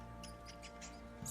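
A rat in the video game Witcher 3 gives a few faint, brief, high squeaks, spaced out over steady low game background hum.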